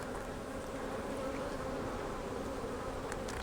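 Honey bees buzz in a steady, dense, close hum from an open beehive during a hive split, with no voices.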